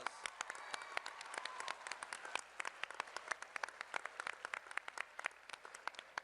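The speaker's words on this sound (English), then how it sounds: "Give all of yourselves a round of applause" Students and guests applauding at a school gathering for a NASA Mars rover naming, many hands clapping steadily with crisp individual claps, gradually thinning toward the end.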